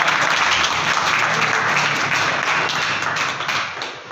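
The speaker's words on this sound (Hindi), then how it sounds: "अपने साथ से तालियों से स्वागत करो भाई का।" An audience at a goldsmiths' association gathering in Karnal claps loudly and steadily to welcome its new president, a dense, continuous round of applause from a crowd close by.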